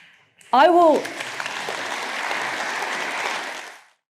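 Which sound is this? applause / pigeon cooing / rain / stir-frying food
applause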